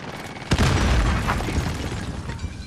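A grenade explosion in Warzone on Rebirth Island, one sharp loud boom followed by a long rumbling roar that slowly fades, with faint gunfire trailing behind.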